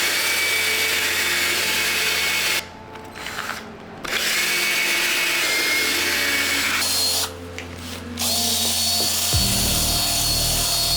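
A power drill whirs loudly and steadily with a brush scrubbing mesh knit sneakers, cutting out briefly twice before revving back up.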